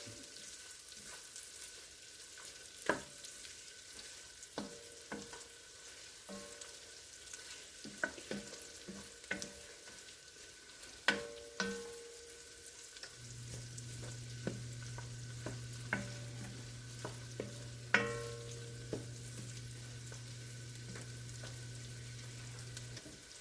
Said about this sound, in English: There's some onion and garlic simmering in butter that really smells great